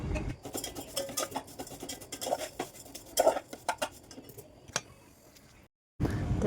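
Vermicelli dry-roasting in a pot over a gas flame, with irregular scraping and light clinking of a spoon against the metal pot, fairly close, then a brief pause and a louder burst of stirring.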